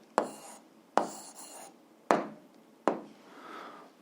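A pen writing an answer by hand on paper makes four distinct, close scratchy strokes, each a sharp tap that trails into a short scratch, spaced about a second apart with quiet between.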